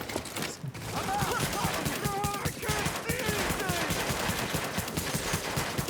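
Rapid in-game gunfire from a shooter match scoring headshot kills, a dense, steady stream of sharp shots running nearly continuously and loud, with faint voice-like chatter mixed underneath.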